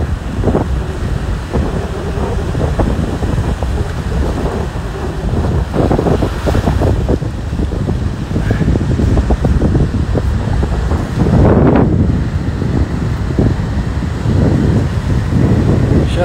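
Sea waves and wind on the Kuchugury shore: continuous loud surf rolls in with repeated crashes, while gusting wind buffets the microphone throughout.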